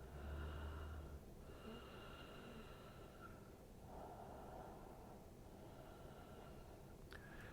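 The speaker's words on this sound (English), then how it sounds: "I'm taking 3 breaths." Slow, deliberate breaths during a soft flow yoga class, faint airy inhales and exhales rising and falling under a steady background hiss.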